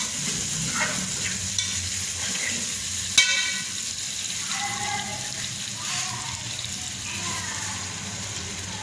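Meat sautéed with onions and black pepper in a home kitchen pan, now with tomatoes added, sizzles steadily while a utensil stirs and scrapes through it, with a sharp clink partway through and faint voice traces in the background.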